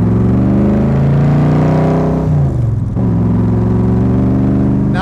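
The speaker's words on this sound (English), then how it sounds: "Now let's listen to those pipes." A 1965 Shelby Cobra Backdraft engine idles loud and deep through its exhaust pipes, a throaty rumble that dips briefly after a light blip of the throttle and then settles, very close.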